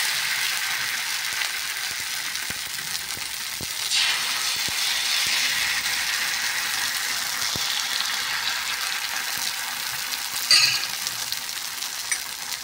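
Neer dosa batter frying on a hot pan, a steady soft hiss of sizzling with faint scraping clicks, continuous and close throughout.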